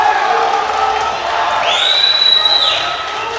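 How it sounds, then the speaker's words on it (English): A powerlifting competition crowd at a world championship roars and cheers steadily, with a sustained whoop rising above the din partway through. "The crowd are on their feet."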